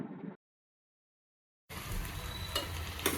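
Vegetables with turmeric and salt in a pan: a brief burst, then a pause of silence, then steady close sizzling with a few scraping stirs.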